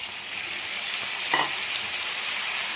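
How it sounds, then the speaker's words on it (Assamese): Ginger, garlic and onion paste sizzles loudly and steadily with chicken in a pan for a chicken curry with sesame, a dense close hiss with a brief stirring scrape. "এইখিনি ভাজি থাকোঁতে মই আদা, নহৰু আৰু পিঁয়াজ এনেকৈ পেষ্ট বনাই লৈছিলোঁ, এইখিনি দি দিলোঁ"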